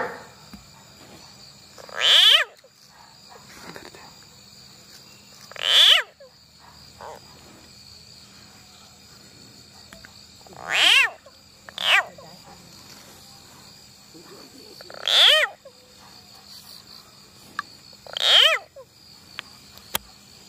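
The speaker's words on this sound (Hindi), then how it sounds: "ये मेंढक जो है बचने के लिए एक प्रकार का भयानक टाइप का आवाज निकाल रहा है।" A frog caught by a snake lets out five loud, harsh, shrieking cries spaced several seconds apart, like a crying baby or kitten. Crickets and other insects chirp steadily in the background.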